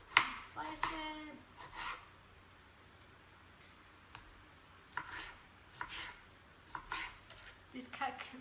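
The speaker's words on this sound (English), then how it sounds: "We need to cut our tomato that we already washed." A Cutco knife slices through a washed tomato on a cutting board during kitchen meal prep, making soft, sparse taps and cuts spaced a second or so apart after a brief voice at the start.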